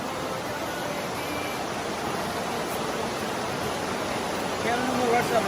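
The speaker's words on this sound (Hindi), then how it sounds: "आगे बहुत ज़बरदस्त आबशार है जिससे पानी गिर रहा है।" A powerful waterfall near a Pakistani village in summer pours water with a constant, dense roar that stays loud and unchanging throughout and swells slightly at the end.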